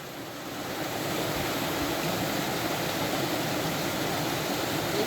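Steady broadband rush of a rain-swollen river running nearby on the Appalachian Trail after a hurricane, continuous and even with no other sounds.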